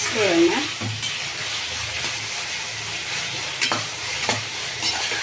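Raw banana slices fry in hot oil in a pan, giving a steady close sizzle broken by several scraping stirs of a spatula, with no talking.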